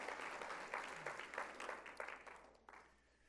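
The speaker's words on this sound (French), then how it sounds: "une bonne main d'applaudissement si vous dites oui" Audience in a church service clapping together, a steady round of applause at moderate distance that gradually tapers off over a few seconds, with no voices over it.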